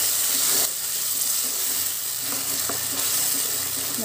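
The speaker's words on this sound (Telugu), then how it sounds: "మొత్తం ప్యూరీ చేసుకొని అది కూడా ఇందులో వేసుకొని వేయించుకోవాలి" Tomato puree sizzling and frying in a pan of oil for a stuffed eggplant curry, a steady bright hiss with faint stirring clicks, close up and without talk.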